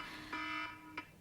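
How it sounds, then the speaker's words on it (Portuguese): Phone or home alarm going off, a thin high electronic tone sounding in repeated short beeps, moderately quiet and heard on its own without talking. "Já sabemos o meu alarme"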